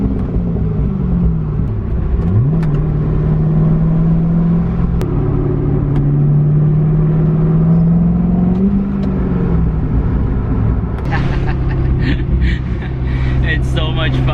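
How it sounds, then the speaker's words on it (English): A 2007 Corvette with a manual transmission drives along, its engine note rising and falling through gear changes as a steady rumble sits up front, with a person talking over it for much of the time. "It's so much fun to drive this car."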